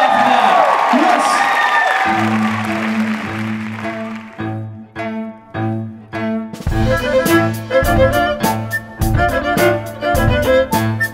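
A live crowd at a show at Kollaboration Toronto 2013 applauds and cheers in a loud wash of clapping for about two seconds, fading as the band's music starts and carries on.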